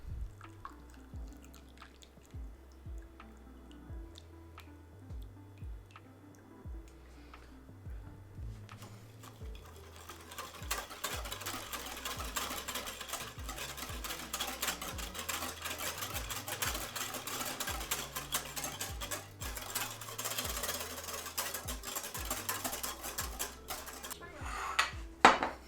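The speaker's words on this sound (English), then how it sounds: "Whisk until well combined." A metal whisk beats milk into eggs in a bowl for a crème anglaise. It begins as sparse rhythmic clinks against the bowl, then turns into a fast, steady, busy clatter of whisking, with no voices.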